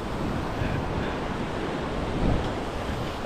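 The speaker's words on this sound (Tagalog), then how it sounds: "Alon man." Open ocean waves at sea wash and churn continuously, mixed with steady wind buffeting the microphone, forming a dense, even rush with a slight swell near the end.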